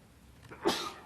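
A single sneeze bursts out at a school board meeting, a short sharp exhalation following a faint intake, fairly quiet in the room.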